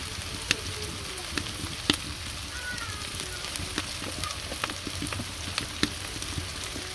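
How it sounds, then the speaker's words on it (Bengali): Beef liver and lung pieces fry in a pan with browned onions, giving a steady close sizzle dotted with sharp crackles and pops. "আমি মাংসগুলো ঢেলে দিব।"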